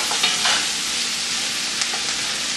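Vegetables and meat for jambalaya sizzle loudly in a pot, a dense steady hiss close by, with a few faint scrapes of stirring breaking through and no talking.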